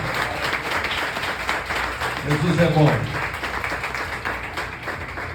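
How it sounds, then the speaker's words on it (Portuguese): A church congregation claps together in a sustained, lively round of applause, moderately loud, while a voice calls out over the clapping partway through. "As palmas logo ao Senhor, irmãos, com alegria."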